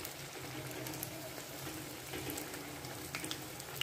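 Chili besan pakoras fry gently in oil over low heat while being turned, giving a steady, close, even sizzle with soft crackle throughout and no voices.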